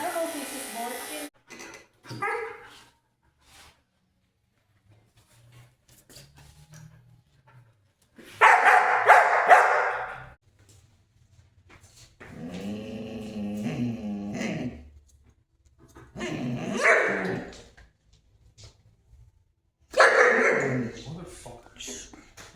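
A dog barks and whimpers in short bursts between quiet gaps, with people talking nearby and a buzzing hum in the background.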